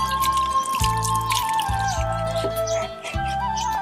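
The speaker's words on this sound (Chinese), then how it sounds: "太烫了，用凉水给它冲一下" Cooked coconut snail meat rinsed under cold running water, a close splashing trickle with drips and wet squishes while background music plays alongside.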